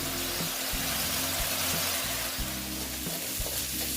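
Spice masala fries in a pan with a loud, dense, continuous sizzle and crackle up close, broken by occasional dull knocks of a spoon against the pan.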